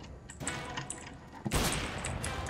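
Gunfire in Counter-Strike: Global Offensive, with scattered shots and a louder burst of firing midway, close and sharp over background game noise.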